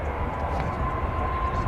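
A jet airplane takes off at Nashville International Airport, a loud, continuous broadband engine roar with a steady whine running throughout a short burst, no speech over it.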